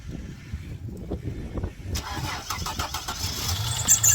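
A 1993 Ford Falcon Fairmont Ghia sedan engine cranks over and catches, settling into a steady mid-pitched idle up close, with faint voices in the background.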